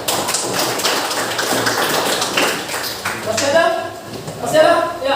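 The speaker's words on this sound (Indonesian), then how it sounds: "Tepuk." A classroom of students clapping hands together on cue, a burst of brisk, fairly close taps with some voices over the rhythm toward the end.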